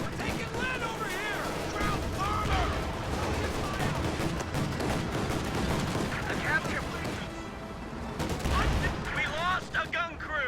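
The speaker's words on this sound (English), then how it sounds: "HE shells doing quite a bit of damage to that Folks Grenadier squad." Battle sounds from a WWII strategy video game: artillery HE shells burst amid dense, continuous gunfire and booms, loud throughout, with a voice talking over the action.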